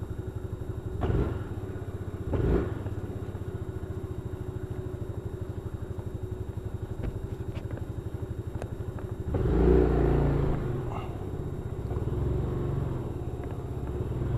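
Motorcycle fitted with a new backrest, recorded from a helmet camera while riding: a steady low engine drone throughout, with brief louder bursts of revving or wind buffeting near the start and middle.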